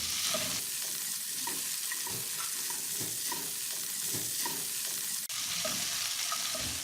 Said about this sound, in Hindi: फिर जब लहसुन की खुशबू आने लगे तो इसमें फिश डालकर फ्राई करें।